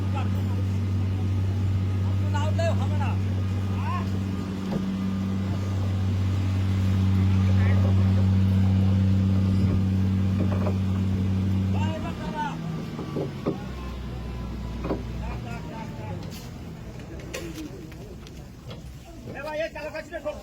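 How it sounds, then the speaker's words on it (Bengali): A trawler is hauled out of the water along an iron slipway at Kakdwip dock, with a loud, steady low engine drone that cuts out midway. Clanks, creaks and muffled voices follow. "জল থেকে উঠে আসছে ট্রলার"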